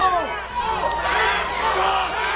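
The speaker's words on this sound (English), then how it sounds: "The crowd was into it." A loud, dense roar of a crowd at a fight in New Mexico, with whoops, shouts and high-pitched cheers layered over a continuous wash of noise, sustained throughout.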